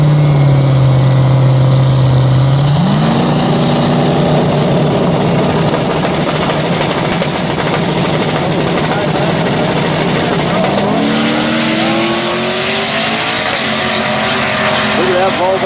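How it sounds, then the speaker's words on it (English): A Volvo wagon launches down a drag strip, its engine note climbing loud and close, then dropping briefly at a gear change before rising again as it pulls away. "Look at that Volvo go"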